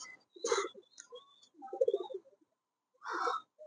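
Rooftop pigeons coo in three separate bursts in hot weather, soft and close, with short quiet gaps between the calls.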